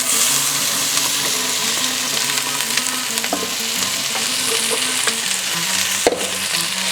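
Vegetables for a gumbo sizzling loudly in a hot pan, a steady close frying hiss with occasional stirring knocks, while blues music plays underneath.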